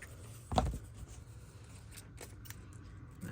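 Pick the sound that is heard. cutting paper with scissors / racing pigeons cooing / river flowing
cutting paper with scissors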